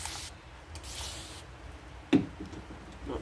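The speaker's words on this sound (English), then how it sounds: "I'm going to take my misting bottle and spray it from a distance" A misting bottle gives short airy sprays onto furniture being painted early on, followed by a soft knock and faint rubbing sounds in a quiet room.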